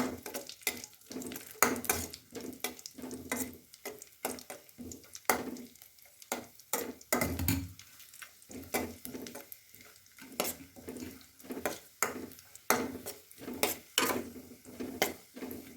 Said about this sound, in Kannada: ದ್ರಾಕ್ಷಿನೂ ಅಷ್ಟೇ ನೀಟಾಗಿ ಫ್ರೈ ಮಾಡ್ಕೊಳ್ಳಿ.